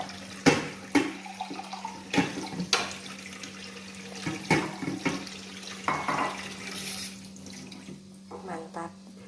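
Spoon stirring seasoning into water in a cooking pot for chicken liver and gizzard, heard as intermittent sloshing and scraping knocks against the pot with a steady low hum underneath.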